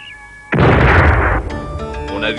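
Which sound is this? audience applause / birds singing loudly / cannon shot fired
cannon shot fired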